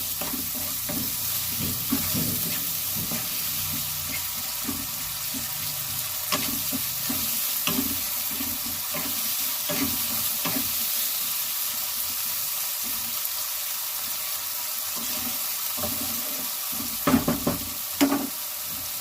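Onions frying in a pan for prawn biryani, a constant bright sizzle broken by repeated scraping of a stirring spoon, and a louder clatter near the end.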